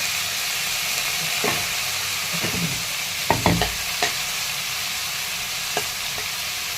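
Okra sautéed with onion and a little salt sizzles steadily in a pan, a continuous frying hiss broken by a few sharp scrapes and clacks of stirring.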